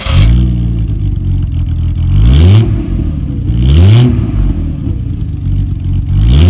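Triumph 2000 mk2 straight-six heard from the rear of the car, a loud rumbling exhaust idle blipped three times so the revs swell and fall back in a regular rhythm, close and without speech.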